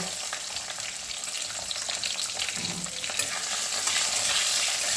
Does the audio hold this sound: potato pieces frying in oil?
yes